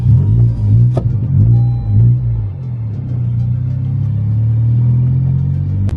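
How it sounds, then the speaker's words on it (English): A 2018 Honda Civic Si being driven, its engine giving a low steady rumble that swells with a couple of revs early on, then settles into an even drone, close and loud with no talking. "I'm going to drive the car now."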